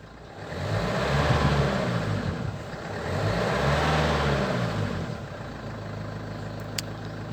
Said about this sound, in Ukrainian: Давайте спробуємо газнути